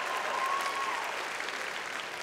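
An audience applauds during a talk at an event called The Gathering: a dense, steady wash of clapping from a crowd that holds at a fairly even level and eases off slightly at the end.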